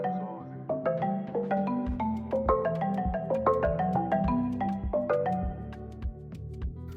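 An Afrobeat and dancehall beat built with FL Studio stock plugins: a bright, filtered marimba melody plays over a steady, evenly spaced kick drum, at moderate level with no talking.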